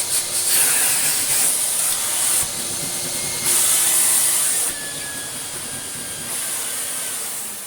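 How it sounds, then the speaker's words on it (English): A steady, loud hiss of air suction from a vintage Vax 6130SX vacuum cleaner that surges and eases in waves, with a faint whine running underneath. "you turn the suction on and the whole thing does that"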